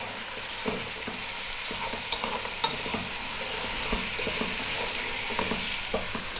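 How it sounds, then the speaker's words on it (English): Lamb with rosemary stirred and fried in a pan over slightly above medium heat, giving a constant hissing sizzle dotted with light scraping and tapping strokes, close and fairly quiet, with no voices. "we're going to throw this around in the pan for about 6 or 7 minutes"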